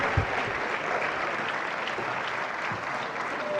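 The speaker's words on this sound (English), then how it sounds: "shall we rise and give him a standing ovation? Keep clapping." An audience rises in a standing ovation for a professor at an academic festschrift, giving steady, dense applause that fills the hall without letup.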